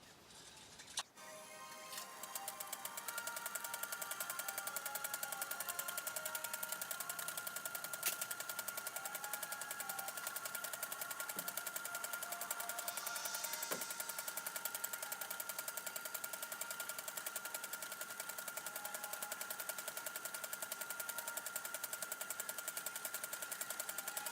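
A sewing machine runs steadily, stitching a buttonhole into a cloth pad, its motor hum and needle rhythm continuing at an even, close level for the whole stretch after a brief start.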